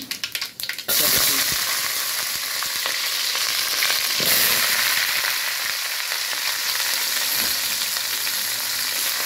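Vegetables for a sarputi fish, potato and cauliflower curry drop into hot oil already seasoned with panch phoron. A brief rustle gives way to a loud, steady, broadband sizzle that holds close and unbroken to the end.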